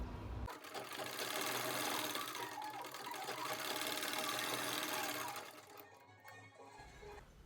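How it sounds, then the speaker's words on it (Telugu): A sewing machine runs steadily, stitching a square of saree main fabric joined with lining, a loud continuous rapid whir for about five seconds before slowing and stopping, with no talk. "మెయిన్ ఫ్యాబ్రిక్ సీదా నుంచి లైనింగ్ వేసి స్క్వేర్ షేప్ స్టిచ్ చేస్తున్నాను"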